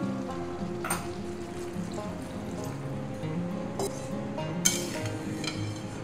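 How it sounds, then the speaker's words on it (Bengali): Spice-rinsing water poured into a pot of simmering chicken curry with potatoes, a steady close pour with a few light metallic clinks against the pot. "এটা মশলা ধোয়া জল দিয়ে দিলাম।"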